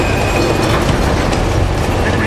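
A train in the video game Uncharted 2 rumbles along loudly and steadily, with a continuous low roar and faint metallic clatter over the whole stretch, and no voices on top.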